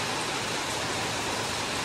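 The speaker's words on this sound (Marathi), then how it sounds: "लई वाईट पाऊस आलाय" Steady, dense hiss of sudden heavy rain pouring down, loud and uniform throughout with no other sounds.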